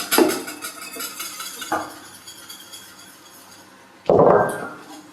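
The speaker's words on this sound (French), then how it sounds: "Et je n'arrête pas de mélanger." A spatula works flour into choux pastry dough in a pan, with clinking knocks against the metal: a sharp scrape near the start, a smaller tap around two seconds and a louder, fuller scraping burst near the end, no talking.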